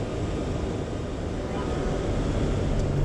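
A 4WD vehicle climbing a large soft sand bowl on Foster Beach, Western Australia, its engine a steady loud roar with heavy low rumble and wind noise throughout.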